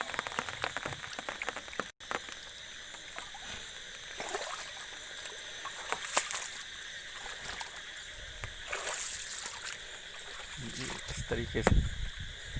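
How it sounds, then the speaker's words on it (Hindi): Irrigation water streams along a raised-bed furrow in a pigeon pea field, a steady soft trickling and gurgling that runs continuously beneath a voice talking throughout. "पानी बह रहा है।"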